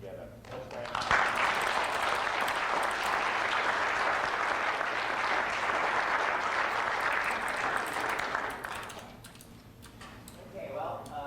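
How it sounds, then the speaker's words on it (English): A round of applause for Bonnie Courier at a Sidney Coleman Tuesdays gathering, a sustained burst of many hands clapping for about eight seconds before fading into room noise and a voice. "we should give a round of applause to Bonnie Courier"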